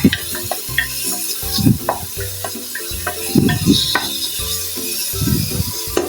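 Garlic, onion and tomato sauté in a hot pan for sinigang na liempo, with a steady sizzle under repeated close scraping and clinking as a utensil stirs against the pan.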